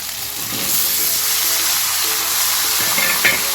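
Tomatoes sauté with onion and eggplant in a hot pan, a dense close sizzle that swells after a quiet start and holds steady, with soft stirring scrapes near the end and no voices.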